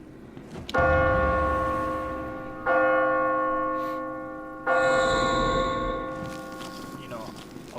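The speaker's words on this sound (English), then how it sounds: "Bell tower." A church bell in a bell tower from the game Kingdoms of Amalur: Reckoning tolls loudly three times at steady intervals, each rich stroke ringing out and slowly fading over a low murmur.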